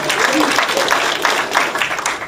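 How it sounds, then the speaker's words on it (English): An audience at a summit panel claps for a teacher, a lively patter of many hands close by, with a voice briefly audible partway through. "everybody clap."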